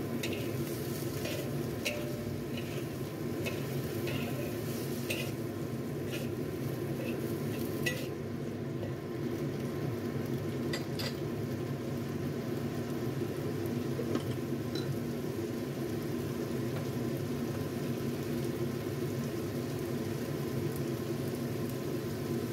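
Food sizzles steadily in a frying pan while a utensil scrapes and stirs oyster sauce through it now and then, a continuous hiss without any talking.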